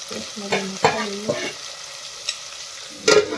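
Bottle gourd and potatoes frying in a pan for a vegetable curry, with a few scraping stirs of a spoon against the pan over a steady sizzle, close and moderately loud.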